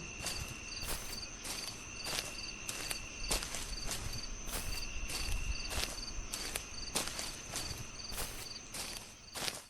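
Steady footsteps walk at an even pace with crunching steps at night, while crickets chirp continuously in the background.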